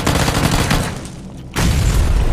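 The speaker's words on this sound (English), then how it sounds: "Grenade pa yun?" Grenade blast in PUBG: a loud, dense roar of explosive noise fills the clip, dipping briefly before a second heavy burst near the end.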